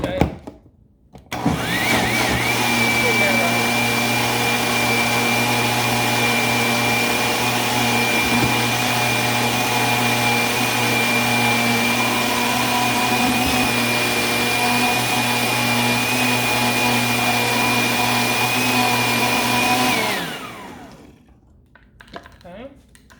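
A blender whirs steadily at high speed for about twenty seconds blending pesto, loud and close, with a constant motor whine before abruptly shutting off.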